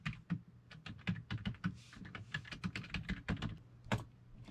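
Rapid, uneven keystrokes on a computer keyboard as a registry value name is typed, close and fairly quiet, continuing for several seconds with no one talking.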